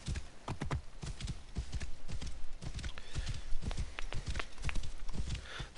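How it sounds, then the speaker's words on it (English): Horse hooves clip-clop in Assassin's Creed Origins, a steady walking rhythm of hoof strikes close by over faint ambient background. "you just hold the button down and automatically climb on the horse"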